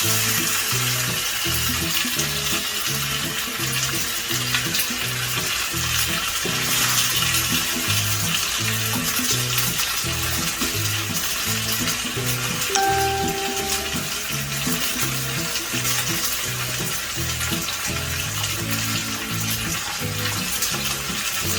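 Pork loin sears in a hot pan with a steady, loud sizzle and crackle of fat, continuous and close throughout, with no voices.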